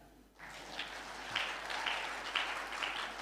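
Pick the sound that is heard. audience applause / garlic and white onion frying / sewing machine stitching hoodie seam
audience applause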